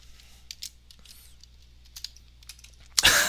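Light, quick clicks of typing on a computer keyboard patter faintly and close during a magic livestream hangout, ending in a sudden louder burst of noise.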